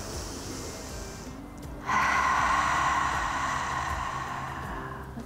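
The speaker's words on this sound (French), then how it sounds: "On inspire par le nez. On expire par la bouche. Et notre respiration fait le son des vagues de l'océan." Slow, steady yoga breath during an outdoor session, drawn in through the nose and released through the mouth with a soft, sustained, wave-like rush that swells and lingers.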